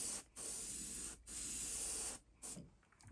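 Paint spray gun applying candy paint to a Magnum fishing lure, three sustained close hissing bursts separated by brief pauses, ending with a shorter final spurt, loud and alone without speech.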